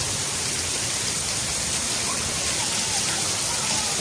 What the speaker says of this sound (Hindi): और ये बहुत तेज़ हो रही है, काफ़ी तेज़।